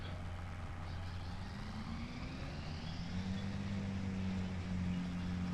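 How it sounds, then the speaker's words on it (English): A video-game tractor engine in Farming Simulator 25 gives a low, steady drone with a rising pitch as the revs climb, continuous and fairly loud, with a rumbling undertone throughout. "There we go, get those revs up."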